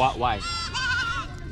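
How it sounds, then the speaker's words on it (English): Sheep and goats bleat as they are brought in from the bush to an enclosure at a Maasai village in Africa, with loud, wavering calls close by and a voice speaking briefly over them. "So they're bringing in the like sheep and goats and stuff now"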